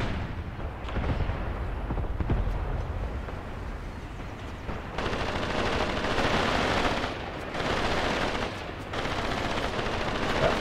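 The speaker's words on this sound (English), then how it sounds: "the half-track can just sit here and hose them down with the machine gun" Sustained machine gun fire from a half-track in the Graviteam Tactics war game, dense rattling bursts with a short lull then two heavy stretches of continuous firing, loud and close throughout.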